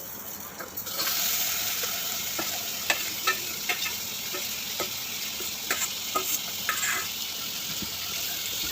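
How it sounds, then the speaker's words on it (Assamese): Marinated mutton with ginger-garlic paste sizzles loudly in hot oil in a pan, a bright constant hiss broken by repeated scrapes and clinks of a spoon stirring, with no talking. "এতিয়া মই দিলোঁ মাংসখিনি, মেৰিনেট কৰি ৰখা মাংসখিনি দিলোঁ।"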